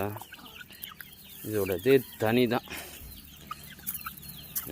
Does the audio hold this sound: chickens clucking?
yes